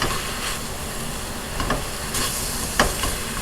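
Apples cooking in butter for apple pie sizzle steadily in a pan as they are stirred, with a broad hiss and a few scraping strokes of the spoon, close and fairly loud.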